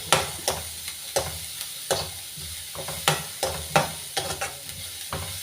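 Sliced onions for a mushroom curry sauté in a pan, with a soft sizzle under repeated scraping stirs at an irregular rhythm, close and fairly quiet, with no talking.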